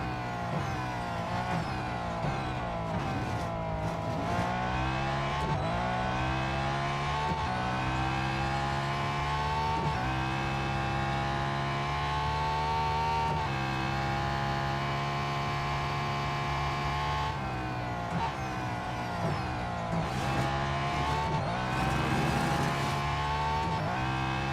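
A race car in Real Racing 3 drives a lap with a continuous engine drone, pitch climbing and dropping through gear shifts and corners, loud and alone with occasional tire squeal.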